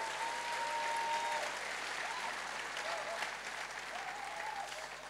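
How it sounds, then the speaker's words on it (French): An audience in a church gathering applauding, a sustained wash of clapping from a crowd heard at moderate distance, fairly faint, with a voice speaking over it. "est-ce qu'on peut applaudir cette Église et dire merci"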